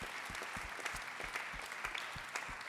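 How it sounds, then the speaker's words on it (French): An audience at an award ceremony applauds steadily, with dense, even clapping that sounds somewhat distant and quiet and carries no talk over it. "je vous demande de les applaudir."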